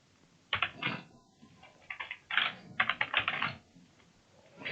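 Keys clatter on a computer keyboard while filling in an Excel and Word salary slip, short bursts of quick, close taps separated by brief pauses, with no voice.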